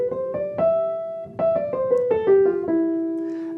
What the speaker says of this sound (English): But if I would only play white notes beginning on E instead, it sounds like this.